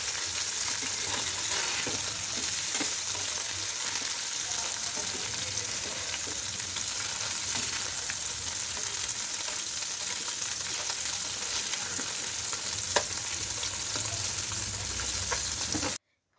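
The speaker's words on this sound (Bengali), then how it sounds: "মাছগুলো এক পিঠ ভাজা হয়ে যাওয়ার পরে আরেক পিঠ আমি উল্টে দিয়ে হালকা করে ভেজে নিলাম।" Fish fries in hot oil in a pan with ginger-free spice paste, giving a steady, dense, close sizzle that holds evenly for the whole stretch, with a few faint clinks and stirring sounds and no talking.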